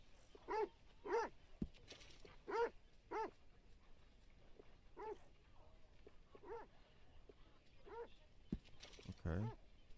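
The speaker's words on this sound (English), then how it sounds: "Quiet, dog." A dog in Red Dead Redemption 2 gives a run of short, sharp barks and yips at moderate distance, irregularly spaced, with faint background sounds between.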